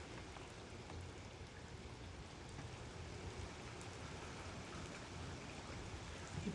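Rain falls steadily outdoors, a faint, even hiss of drops on surfaces with no distinct pauses, distant and soft throughout.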